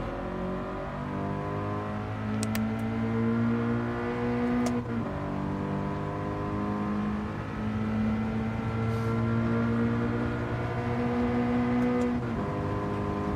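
A Toyota race car engine on the Suzuka circuit in the Gran Turismo 7 video game, droning loud and steady throughout as the revs climb and dip with gear changes, with no voices over it.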